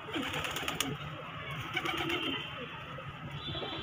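Wild pigeons gathered at a rooftop coop give a few soft, low coos amid a busy outdoor din with sharp clicks and rustles.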